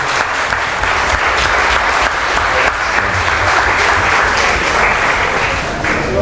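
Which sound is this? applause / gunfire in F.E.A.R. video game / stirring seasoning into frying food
applause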